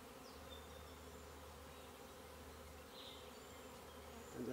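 Swarm of honeybees buzzing steadily as they move from a swarm trap into a permanent hive, a continuous close drone with occasional individual bees passing near, no speech.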